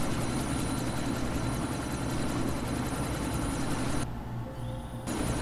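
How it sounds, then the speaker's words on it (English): Helicopter rotor and engine drone from the video game Deus Ex: Mankind Divided, a loud steady low throb filling the clip, dropping briefly near the end before resuming. "Miller, chopper's been grounded."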